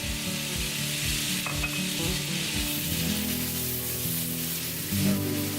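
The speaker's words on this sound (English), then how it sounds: "Add some garlic, 4 cloves of chopped garlic." Four cloves of chopped garlic sizzling in an olive oil blend, a close hiss and crackle under a few quick rhythmic scraping strokes at the start, then a steadier sizzle with a brief clink near the end.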